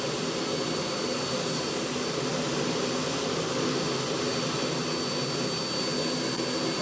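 A gas turbine engine idles at 6% throttle, giving off a steady, loud jet-like roar with a high whine, unbroken for the whole stretch and with no voices.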